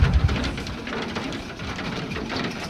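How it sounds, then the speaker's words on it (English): Rain falls steadily in the X-Plane 11 flight simulator game, a dense, even hiss of drops drumming on the aircraft with a low rumble underneath, loud and continuous, no speech. "Rain effects are brilliant."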